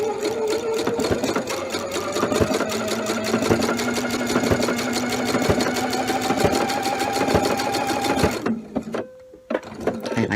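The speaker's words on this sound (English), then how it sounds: "it's going to go take a bite out of the fabric here, right there, and then it's going to come back and stitch stitches in the air" A sewing machine stitches binding onto fabric with a loud, fast, even chatter of needle strokes that runs steadily before cutting out near the end, leaving a short quiet gap with a faint tone.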